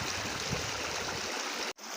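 Fast-flowing mountain stream, Çat creek near Hocaoğlu village in Şebinkarahisar, rushing and splashing steadily and loudly up close, cutting out abruptly near the end.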